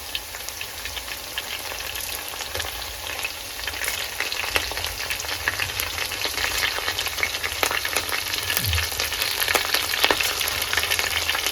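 Ginger, garlic and curry leaves sauté in a hot pan for a beef dish, giving a steady, close, full sizzle and frying hiss with faint stirring scrapes throughout and no talking.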